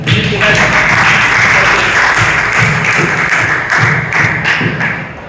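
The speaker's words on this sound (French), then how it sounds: "En tout cas, applaudissons pour maman Antoine." A church congregation at a Sunday service applauds for maman Antoine, a dense, loud clapping that holds steady for several seconds with a few heavier thumps mixed in and voices faintly underneath.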